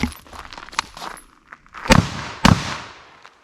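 Beretta 1301 Tactical LE or IWI Tavor TS-12 shotgun fired in a rapid Bill Drill string, a few sharp blasts with two loud close shots standing out, plus lighter clatter between them, no voices.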